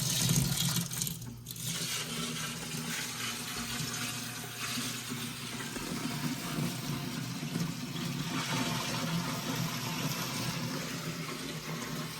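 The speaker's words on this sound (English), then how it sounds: "Here's the first 5 gallons going in here." Water pours steadily from a 5 gallon bucket into a 30 gallon aquarium, a continuous loud rushing and splashing that holds for several seconds with no talk.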